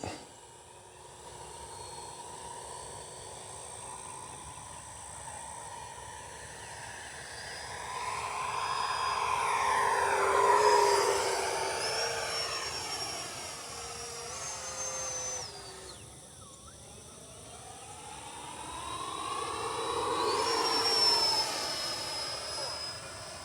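A Freewing Ares 3D 90mm electric ducted-fan RC jet on an 8S setup streaks past in two swelling passes, its whine rising and falling in pitch as it approaches and recedes, loud at the peaks.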